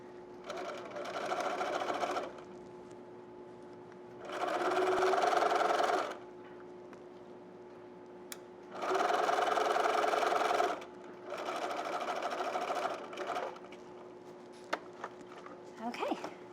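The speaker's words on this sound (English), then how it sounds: "we've sewn all 4 pieces of fabric" A sewing machine stitching fabric layers of a zipper clutch handbag, running in four separate bursts of steady mechanical whirring of about two seconds each, with quiet pauses between them.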